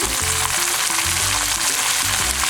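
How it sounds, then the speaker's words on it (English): Squid sizzles and crackles loudly in a hot pan for adobong pusit, a steady close frying hiss with no voices over it. "I'm gonna put the squid right now"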